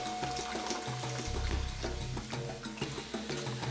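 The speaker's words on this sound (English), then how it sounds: "we've got a litre of boiling water here, which I'm going to add to the mixture" A litre of boiling water is poured into a homemade clay paint mixture in a pot, a gurgling, splashing stream with some clunking, moderately close, with no talk.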